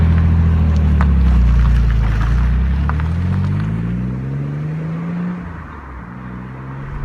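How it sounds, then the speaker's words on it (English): An Alfa Romeo 166 3-litre Super with a Busso V6 and a manual gearbox, heard from inside the cabin as it drives: a loud, steady low engine drone whose harmonics climb and shift as the car accelerates and changes gear, with no talking. "We are in one of 17 remaining Alfa Romeo 166 3-litre Super with a Spanish gearbox."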